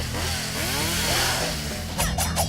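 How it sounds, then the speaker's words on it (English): Chainsaw heavy attack in the hack-and-slash video game The Dishwasher: Vampire Smile, a loud continuous motor buzz with sweeping pitch, then three sharp bursts of slashing impacts near the end, with no talk. "now you have a chainsaw, which is your heavy attack"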